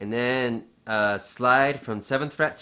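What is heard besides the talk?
No distinct noise like a dog, phone or traffic.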